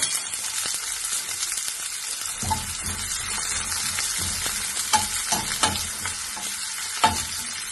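Chopped onions sauté in hot oil in a pan, a steady close sizzle with scraping stirs and light clinks of the spatula against the pan, fuller from a few seconds in.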